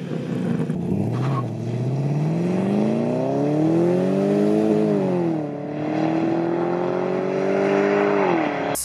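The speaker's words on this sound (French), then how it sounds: "la souplesse du V8, et surtout le bruit à l'américaine" A Ferrari-built V8 in a Maserati Quattroporte revs up through a long, rising and falling engine note, loud and close, with smooth harmonic sweeps and no talking.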